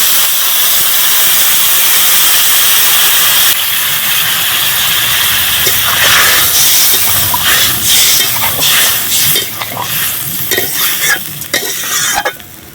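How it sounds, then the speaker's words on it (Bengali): Water splashes into a hot pan of fish curry made with assorted Sundarbans fish and prawns, setting off a loud, steady steaming hiss and sizzle that stays close and dense, with bubbling and stirring crackles building toward the end. "এবারে জল দিয়ে দিচ্ছি।"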